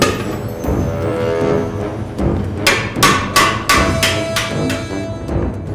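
Repeated hammer blows strike metal while shaping a Swiss Guard breastplate, in a quick, ringing series, loud and close, each hit followed by a short metallic ring.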